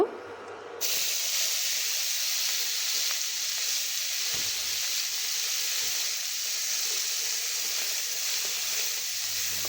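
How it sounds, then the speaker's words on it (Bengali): Dried chela fish frying in hot oil in a wok, a loud, steady sizzle and hiss that swells in after a brief quiet start and then holds close and even throughout. "চেলা শুটকিটা কড়াইতে তেল দিয়ে তেলটা ভালো মতো গরম করে নিয়েছি এবার মাছগুলো ভেজে তুলে নিব"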